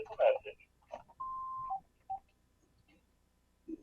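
A phone going off during a town conservation commission meeting, sounding a few short electronic beeps and a sustained tone, fairly quiet amid voices and brief talk.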